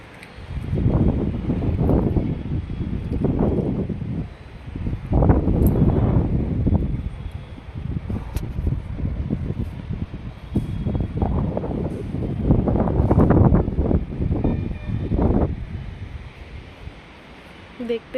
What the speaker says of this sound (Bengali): হাওয়া দিচ্ছে খুব